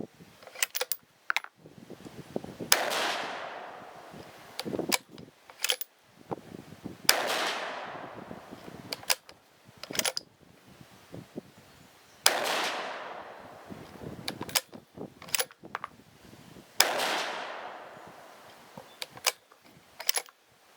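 A Smith & Wesson match rifle fires 62-grain soft point rounds at a target 100 yards away. Five sharp reports come at regular intervals, each ringing out into a fading echo, with clicks and handling noise between them.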